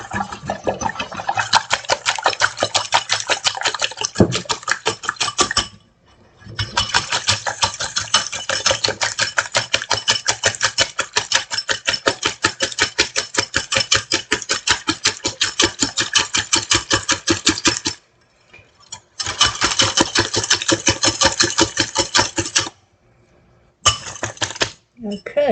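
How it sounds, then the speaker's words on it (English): A whisk beats lemon curd mixture in a bowl with rapid, regular clicking strokes that run in long bursts, broken by a few short pauses. "Let me whisk this."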